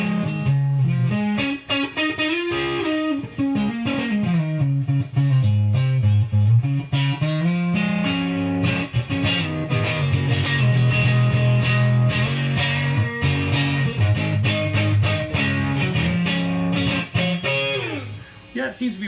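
Fender Limited Edition Vintera '60s Stratocaster electric guitar played through an effects unit in a sustained run of chords and single notes with some distortion, steady and close, with no talk.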